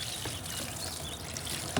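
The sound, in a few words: pouring liquid in a varroa mite alcohol wash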